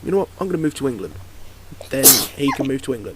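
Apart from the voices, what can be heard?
sneeze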